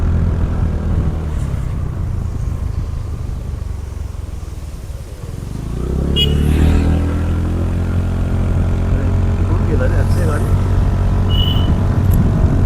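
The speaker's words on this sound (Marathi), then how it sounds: "हा मुंबई वाया express, Lonavala Pune express highway आहे." Traffic on the Mumbai–Pune Expressway heard from a scooter on a dark, rainy ride, a continuous engine and road drone with passing vehicles swelling louder midway and wind rushing past.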